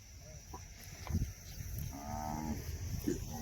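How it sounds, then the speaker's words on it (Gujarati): A rural herd of cows gathering, with several moos rising over a busy outdoor background, some closer and louder, others more distant, and no speech. "જો ગાયું બધા ભેળે થઈ જાય છે."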